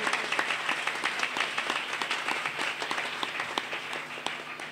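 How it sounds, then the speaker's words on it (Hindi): A church congregation in Ulhas Nagar claps in praise to God, rhythmic hand claps sounding steadily and fairly loud throughout. "ताली बजाएंगे खुदावन के लिए।"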